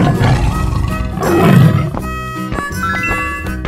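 A cartoon tiger gives a loud, close roar that swells to a peak midway, set against bouncy background music with a few short jingling accents toward the end.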